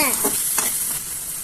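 Steady hiss of vegetables with ginger-garlic paste frying in a pan for veg Maggi noodles, with a few scraping strokes of a spoon stirring through it.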